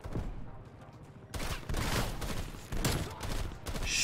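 Bursts of gunfire from a Call of Duty Black Ops Cold War multiplayer match, a dense rattling volley that starts abruptly and keeps going in loud, uneven waves, with more shots cracking over the top.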